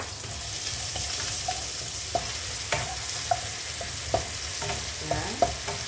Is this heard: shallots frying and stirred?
yes